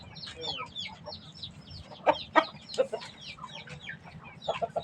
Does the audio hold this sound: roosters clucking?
yes